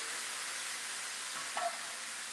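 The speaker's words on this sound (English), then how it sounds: "There's that sizzle." Chicken fajitas sizzle steadily in a hot pan, a constant broad hiss with a brief louder flare partway through, close and fairly loud with no talking.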